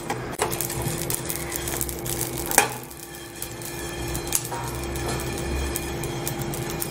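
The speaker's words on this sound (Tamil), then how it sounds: "நல்லா இது மாதிரி வெடிக்கிற சத்தம் கேட்கணும்." Whole spices for a Chettinad chicken curry dry roast in a pan over a low flame, giving off a close, steady crackle with scattered sharper pops. There is no talking.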